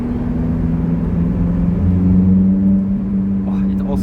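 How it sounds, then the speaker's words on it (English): Lotus Elise engine heard from inside the cabin during a tunnel run, a steady droning hum that swells in pitch and loudness midway through, with a person speaking over it. "Oh, it also sounds good from inside the car."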